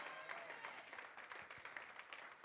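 A church congregation applauds for a while, a faint, distant wash of many hands clapping at a steady level, with no clear voices above it.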